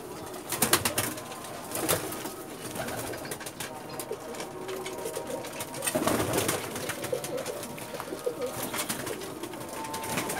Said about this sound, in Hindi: पुराने कबूतर